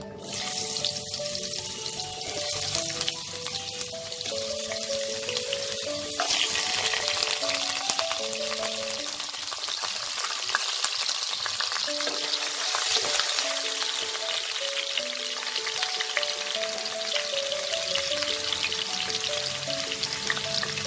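Diced potatoes frying in hot mustard oil in a kadai give a steady, loud sizzle with occasional stirring clatter, running continuously with no talking.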